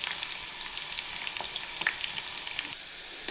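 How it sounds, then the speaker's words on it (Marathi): Whole okra deep frying in hot oil makes a steady, dense bubbling sizzle with small crackles throughout, close and moderately loud, with no voices. "आता आपण यामध्ये भेंडी टाकून घेऊ। पूर्ण भेंडी आपण आता तळून घ्यायची आहे।"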